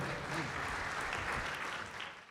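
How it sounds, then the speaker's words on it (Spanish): Audience at a real estate business expo applauding a speaker, a steady, dense burst of clapping that fills the hall and cuts off abruptly. "Un aplauso para Felipe, que viene desde Chile."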